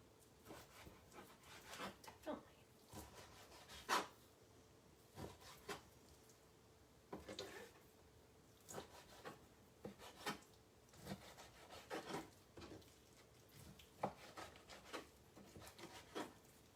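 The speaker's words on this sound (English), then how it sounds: "Time to sharpen my knives again." Kitchen knives being sharpened by hand, giving repeated short rasping strokes in an irregular rhythm at a moderate, close level with brief pauses between passes.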